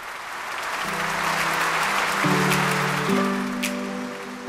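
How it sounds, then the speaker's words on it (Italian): Audience applause at the 2023 finale of the "La Modella per l'Arte" event in Stresa, a steady dense clapping with some sustained tonal music underneath. "Un grande applauso"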